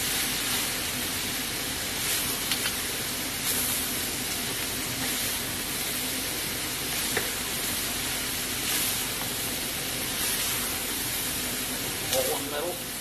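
Onions sizzle in a stir-fry pan already holding cooked garlic, a steady loud hiss like steam that runs the whole time with small crackles scattered through it.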